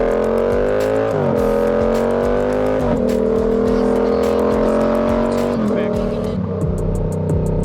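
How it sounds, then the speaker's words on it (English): A Yamaha R7 motorcycle with an aftermarket exhaust pipe runs loud and close, its engine note holding a steady rasp broken by several quick shifts and revs, with a voice speaking over the top. "I love this bike, mostly because of the motor, and it sounds great, too, especially if you put a pipe on it like I have."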